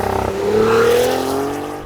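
A Cadillac CT4-V Blackwing holds a line-lock burnout, its engine revving loud and close in a rising, sustained roar with tire noise, heard alone without talk.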